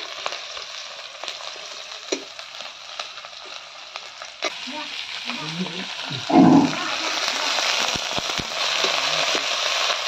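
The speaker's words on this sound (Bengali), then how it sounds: "এইখানে পেঁয়াজ, কাঁচা লঙ্কা, পাঁচফোড়ন, তেজপাতা দিয়ে ফোড়ন করছি" Onion, green chilli, panch phoron and bay leaf tempering in hot oil in a kadai, a continuous crackling sizzle with scattered pops and a brief louder burst midway, with a voice talking over it.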